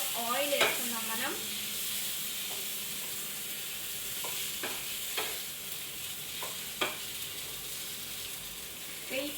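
Oil added to a pan of leftover idli gives a steady low sizzle, with utensil scrapes and clinks from stirring tapping in at intervals.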